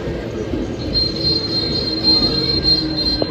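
An up-line suburban train bound for Kalyani or Ranaghat passes close by. A steady high metallic wheel squeal rings over a rumbling roll throughout, with no voices.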